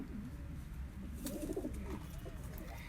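Golden pigeons in a breeder's loft in Lahore coo softly, low murmuring calls repeating over a steady background hum, fairly faint and close.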